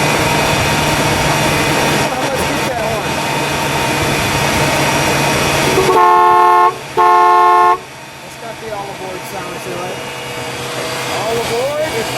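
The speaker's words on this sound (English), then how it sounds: "beep the horn" A 1969 Imperial LeBaron's horn sounds two loud blasts, a longer one and then a second after a short gap, over the 440 V8 idling steadily nearby.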